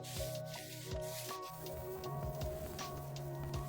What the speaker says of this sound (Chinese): 这个抛光机的力度太小了，磨了半天啥也磨不出来